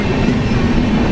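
The Humsafar weekly express rumbles steadily as it leaves Duvvada, a loud, even rolling drone from inside the moving train.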